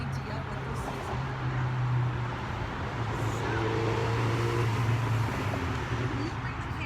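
Road traffic passes beside an outdoor garden, a continuous low roar of cars and heavier vehicles with engine drones rising and fading, loud and steady throughout.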